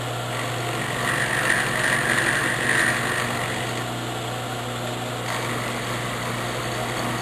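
Machine cutting slowly into metal to square up a corner, a steady high-pitched motor whine over a low hum, with a faint chattering cut rising briefly in the middle.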